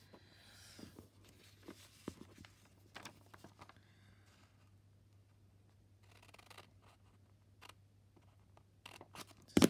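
Scissors snip through folded paper while making a small slit in a vintage Italian-themed zine, giving a few quiet, scattered cuts and rustles over a faint steady hum, with a louder clatter at the very end.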